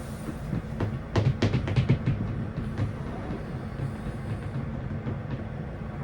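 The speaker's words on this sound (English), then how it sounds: "It's one of my favourite tube lines in the world. The sound is just brilliant." A London Underground Jubilee line train rumbles along with a low continuous roar, a quick run of rhythmic clacks early on, then a steadier droning ride.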